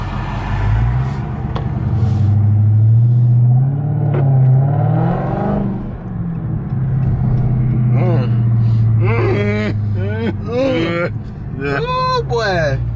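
Dodge Charger Redeye with its mid muffler deleted, a deep engine rumble swelling and revving loudly, with people talking over it in the car.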